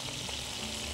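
Yogurt, raw tahini, garlic, salt and pepper stirred in a bowl, a steady close wet swishing that continues without a break.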